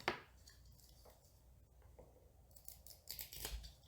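Scissors snip fishing line while homemade hairtail hooks are being made, giving a few sharp, close cutting clicks with handling rustle between them, at a quiet level.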